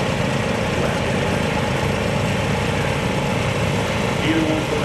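An antique International Cub tractor with a small four-cylinder flathead engine idles at a steam and antique tractor parade in Berryville, Virginia, giving a steady, loud, even running drone with no break.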